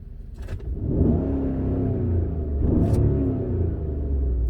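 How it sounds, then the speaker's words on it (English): A 2015 GM pickup truck with a 5.3 engine, recently swapped after a P0304 misfire, revs hard to wide open throttle: a loud, close, steady roar that surges twice, with no talking. "During this test, you must accelerate to wide open throttle. Release accelerate when fuel cutoff occurs."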